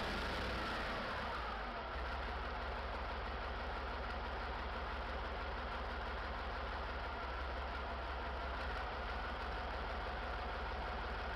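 A Type 402 hot-bulb semi-diesel tractor engine runs steadily, a continuous low, rough drone with no talk, holding an even level throughout.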